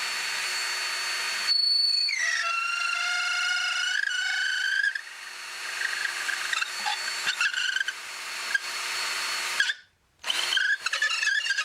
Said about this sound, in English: I'm going to go in through my neck pocket and drill all the way into there